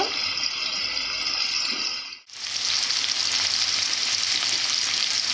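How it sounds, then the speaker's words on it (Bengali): Potatoes frying in a pan for a crab curry, a steady loud sizzle that cuts out for a moment when the pan is stirred or moved, then returns even stronger and keeps going alone. "আলুগুলোকে ভালো করে ভেজে নেব যাতে মাংস তরকারির মতো খেতে লাগে"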